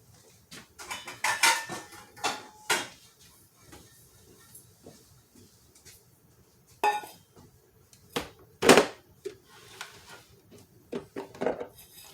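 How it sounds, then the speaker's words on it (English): Ground chicken flour knocked and dumped out of a grinder into a container, heard as scattered clattering knocks and scraping rattles, close by, with quiet pauses between them. "we're going to dump it out of here now"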